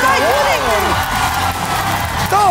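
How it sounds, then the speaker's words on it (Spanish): A studio audience at a televised dance competition show cheers and applauds as one continuous, loud crowd roar, while a voice shouts over it throughout. "¡El aplauso fuerte, fuerte! ¡Fuertísimo, fuerte, señores!"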